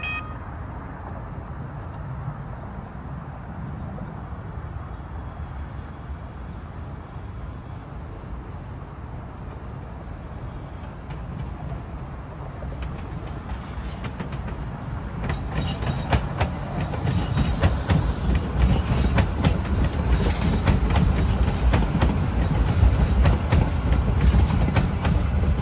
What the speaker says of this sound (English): Here comes a train in from Bayonne.